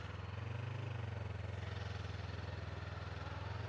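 A motorcycle engine runs steadily on a hill start, giving a continuous low, pulsing rumble at moderate distance with no clear revving, and no talk is heard.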